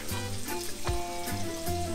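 Seasoned oxtail sears in a hot pan with a steady, close sizzle and frying crackle, broken by a few soft clunks and shifts, with no talking.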